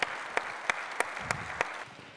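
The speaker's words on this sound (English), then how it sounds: "Please, let's give a warm round of applause to Mo." An audience at a keynote speech applauds, giving a steady wash of clapping with a few sharper individual claps standing out, at moderate level.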